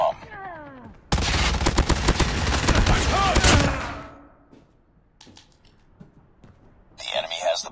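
Call of Duty multiplayer match: a dense, rapid burst of automatic gunfire lasts a few seconds and then fades, with voices talking before and after.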